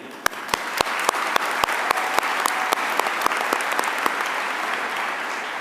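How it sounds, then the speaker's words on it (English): Audience applause at a commencement ceremony, with a dense wash of steady clapping and sharp individual claps cutting through it, held loud and even all the way through. "I want to give a special thanks and round of applause to the staff of Harford Community College"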